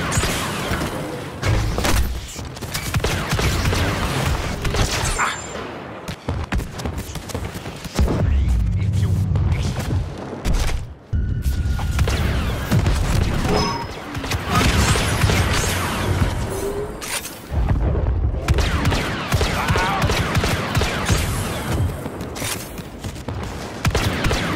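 Steady, dense gunfire and blaster shots crackle through a Star Wars Battlefront 2 battle, with crashes and thumps mixed into the loud, nearly continuous din and voices heard at moments.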